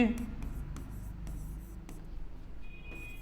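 Writing on a board during a maths lesson on quadratic equations, with brief scratchy strokes and taps beneath a teacher's continuous speech.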